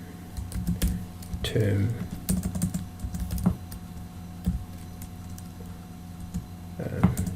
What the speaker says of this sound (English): you can actually type it in yourself